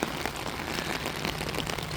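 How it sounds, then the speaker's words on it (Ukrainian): Steady rain falls in Langley, British Columbia, a dense, even patter of drops on surfaces heard up close with no voices. "Так що наслаждайтеся дощиком."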